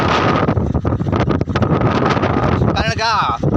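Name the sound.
strong wind blowing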